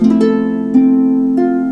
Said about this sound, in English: It's an F7th chord, an inversion of the F7th chord